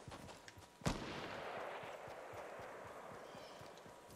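A single gunshot in the video game Fortnite cracks at mid distance, followed by a long airy rumble and faint rhythmic footsteps.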